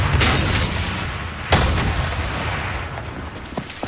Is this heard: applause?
no